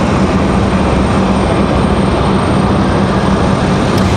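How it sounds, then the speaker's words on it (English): Broadband, steady roar of an Airbus A320 airliner at Raleigh-Durham airport, loud and continuous with no talk over it. "Let's see where this A320's headed."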